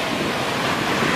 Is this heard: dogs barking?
no